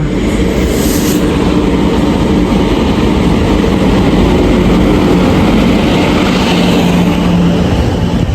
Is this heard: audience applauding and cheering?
no